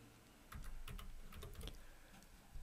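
Quiet clicks of fingers typing a short value on a computer keyboard, a brief scattered run of keystrokes heard close up in a still room.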